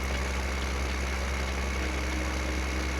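A small Zetor tractor engine in Farming Simulator 15 runs at a steady drone while planting, continuous and even with no breaks.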